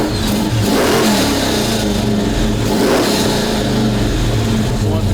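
A car engine revs hard through several rising and falling surges, a loud mid-pitched roar that stays close, with a voice faintly audible underneath.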